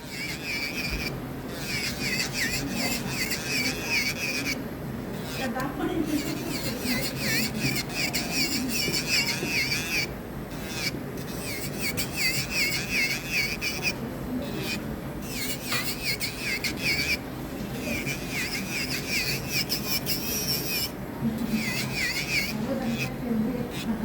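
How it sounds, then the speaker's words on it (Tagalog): An electric nail drill files acrylic and polygel nail extensions, giving a continuous high-pitched whirring grind with repeated brief pauses and re-contacts as the bit moves across each nail, close and steady throughout. "I'm using a nail drill."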